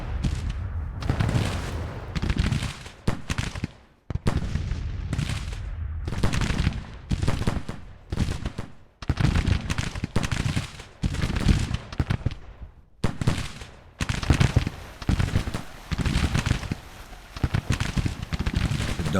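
Dense, continuous battle din from Grand Tactician: The Civil War, with crackling musket volleys and heavy artillery booms rolling steadily across the whole stretch and no talk on top.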